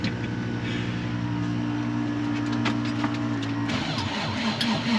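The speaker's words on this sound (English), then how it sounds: "Keep cranking that, Eric." An engine being cranked over on a snowy day, a steady droning whir with a rhythmic pulsing hum that holds for several seconds before shifting and stuttering near the end, close and fairly loud with no talk.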